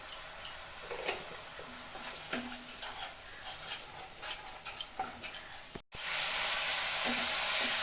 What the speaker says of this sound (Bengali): ধনিয়ার গুঁড়া, জিরার গুঁড়া একসাথে ভালো করে ভেজে নিব।